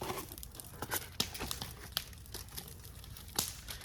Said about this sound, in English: we'll cover this bad boy. In aluminum foil.